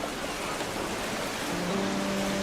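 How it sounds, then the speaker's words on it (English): Steady, dense rain hiss fills the scene in the Roman-era city-building game Anno 117: Pax Romana, constant and even throughout, with faint tonal game sounds entering near the end. "It's raining."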